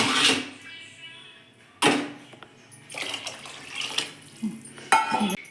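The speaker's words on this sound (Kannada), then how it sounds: "ಅದೇ ರೀತಿ 1 ಬಟ್ಲ ಅಕ್ಕಿಗೆ 2 ಬಟ್ಲ ನೀರು ಹಾಕ್ಕೊಳ್ರಿ" Water is tipped into a cooking pot of rice and spiced masala for a Karnataka-style vegetable palav, heard as a few short, loud splashing pours separated by quieter pauses and light pot clatter.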